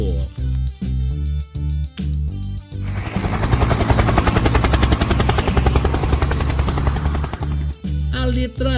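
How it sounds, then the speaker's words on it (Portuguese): A loud helicopter with rapid rotor chopping dominates the middle seconds, framed by bursts of rhythmic music before and after. "helicóptero"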